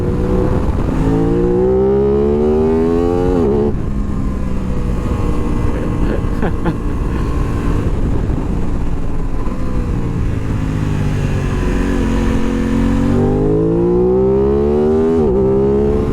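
An Aprilia RS 660 motorcycle engine rises and falls through the gears while riding, loud and close, with revving sweeps up and down and a rider's voice over the engine.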